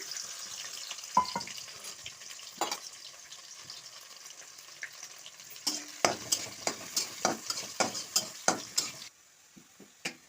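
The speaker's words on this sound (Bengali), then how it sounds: "পেঁয়াজটা দিয়ে দিচ্ছি" Onions frying in oil with cinnamon, bay leaf and cardamom in a kadai, a soft sizzle under repeated rhythmic scrapes and clinks of a spatula against the metal wok, stirring strokes growing more regular toward the end.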